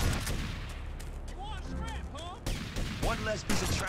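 Gunfire in GTA: Vice City Stories with a purchased gun against a posse, sharp shots spread through the clip amid other in-game voices and noise.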